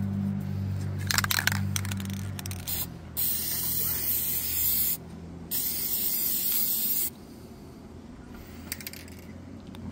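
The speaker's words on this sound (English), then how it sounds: "to permanently seal it, I'll just spray a little bit of lacquer on it" Lacquer sealant hisses from a spray can onto laser-engraved wood in two steady bursts of a few seconds each, close and clear, with a quiet mechanical rattle before and after.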